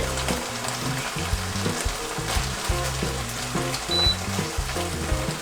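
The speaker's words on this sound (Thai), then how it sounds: "ผมจะผัดแค่แป๊บเดียว" Chinese kale and canned fish are stir-fried in a hot pan, giving a loud, steady sizzle and crackle with rhythmic stirring scrapes throughout and no talking.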